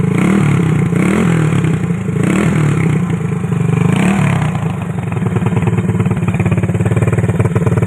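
A motorcycle engine, checked for smoke from its breather, revs loudly and steadily up close, with rising and falling surges over a continuous rough idle and some mechanical clatter.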